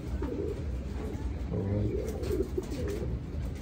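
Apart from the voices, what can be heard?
pigeons cooing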